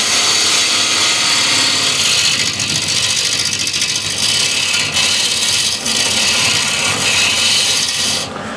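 A bowl gouge cuts cross-grain wood on a spinning lathe, giving a loud, continuous, hissing scrape with a steady motor hum underneath, close throughout.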